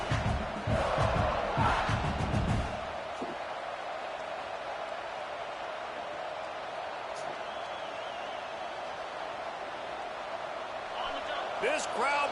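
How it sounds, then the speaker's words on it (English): Football stadium crowd at a Penn State game: a loud burst of roaring fans at the start settles into a steady distant rumble of crowd noise, with an announcer talking over much of it. "This crowd bringing the energy and noise early."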